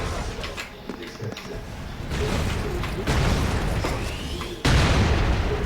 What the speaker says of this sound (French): Et non, ce n'était pas une fusée, c'était une bombe!